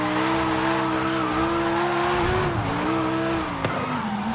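A Lamborghini Huracan Sterrato V10 engine in Forza Horizon 5 drones loudly, its pitch dipping and climbing through gear changes, with a faint tire squeal beneath the steady roar.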